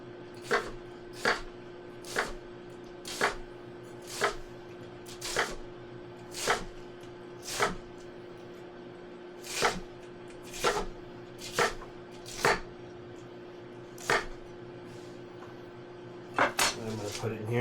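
A knife shreds a vegetable on a cutting board for coxinha, making sharp, evenly spaced chops, about fourteen close, crisp strikes over a faint steady background hum.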